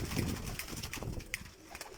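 Pigeons cooing softly and faintly in a low, murmuring flutter, with some rustling and light background noise over two seconds.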